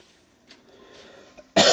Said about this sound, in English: every time I cough, I have to get in the fetal position